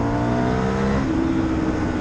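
Aprilia Shiver 900 roadster motorcycle engine droning steadily at speed, a loud continuous tone that shifts slightly in pitch partway through, heard up close without talk.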